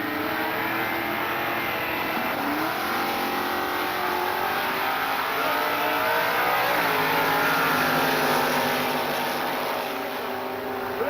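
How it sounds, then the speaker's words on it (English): Drag racing cars, including a Super Street car, roaring down the strip in a sustained loud, dense engine howl with rising pitch sweeps, heard from trackside with no commentary over it. "Mark Moore, the Super Street car, comes in on a 1014 dial. Almost a heads-up run."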